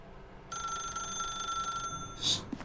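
An old-style telephone bell rings in The Stanley Parable, a steady electronic trill lasting over a second at moderate volume, then a brief louder click or knock.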